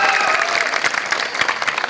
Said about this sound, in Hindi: आप तालियां बजाकर उनका स्वागत कीजिए